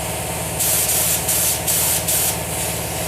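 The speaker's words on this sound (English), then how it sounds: "I'll close this down so it doesn't spray too much at one time." A paint spray gun applying custom car paint, letting off four short bursts of loud, steady hissing spray in a quick even rhythm over a constant background hum, with no talk.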